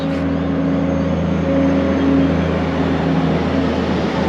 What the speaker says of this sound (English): Wait for that truck.